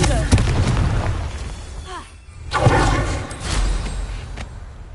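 Confringo fire spell blasts in the Hogwarts Legacy video game, a couple of booming bursts with rumbling tails, with someone speaking over the effects.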